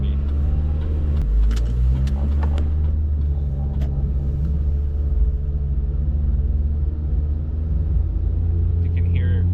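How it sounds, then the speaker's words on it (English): A Nissan Be-1 with a three-speed automatic transmission runs, giving a steady low rumble and hum with a slight shift in engine tone early on. Sharp clicks and faint voices sit in the background. "You can hear the slow tranny."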